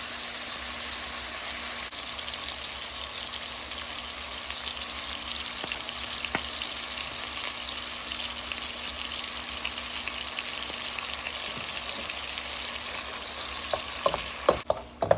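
Ground beef sizzling steadily in a pan for five-alarm chili, a continuous dense crackle at close range with a few sharper pops and stirring scrapes near the end, no voices.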